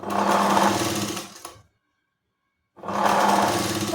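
Sewing machine stitching a katori blouse, running in two steady bursts close up with a clear pause between them and no voices.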